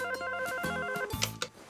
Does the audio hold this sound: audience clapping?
no